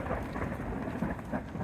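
Steady heavy rain pours during a lightning storm in Laos, with a low continuous rumble of thunder underneath filling the short stretch, close and dense with no voices.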